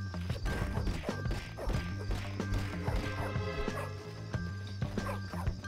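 Dog barks in the video game Bully, repeated sharp yips and woofs in an uneven rhythm over busy game sounds and music, fairly close and loud.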